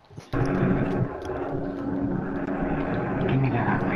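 A computer fan sits very close to a microphone, producing a loud, steady roar like a jet engine that starts abruptly and holds for several seconds.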